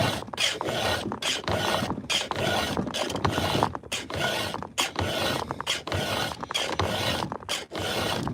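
A chainsaw chain is hand-sharpened with a file in steady, rhythmic rasping strokes, each stroke a loud scraping burst separated by brief pauses, close up and without talk.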